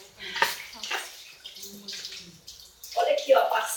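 Tap water runs over hands being washed in a lab sink, splashing in bursts between stretches of talk, with a stronger rush near the end.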